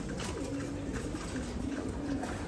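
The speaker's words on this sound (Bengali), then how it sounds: "বিশেষ করে মাদিটা দেখার মতো একটা মাদি কবুতর" Afsan Bagha pigeons with boot beaks, a pair including a hen, coo in low, steady murmurs that run through the whole moment, close and continuous against a background hum.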